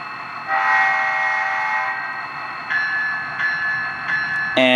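Horn on a ScaleTrains HO scale CSX SD40-3 model locomotive, number 4042 "Yellow Plow", sounding in several short-to-long blasts over a steady electronic rumble, close and fairly loud, ending with a brief clanging burst.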